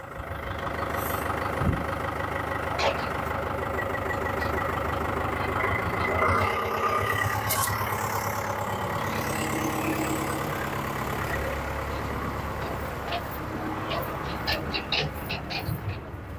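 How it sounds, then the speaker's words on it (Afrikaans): A tractor runs a feed mixer through its PTO, a steady mid-to-low engine drone and mechanical churn close by throughout, with occasional clanks and a voice talking over it. "Voermenger se PTO insit."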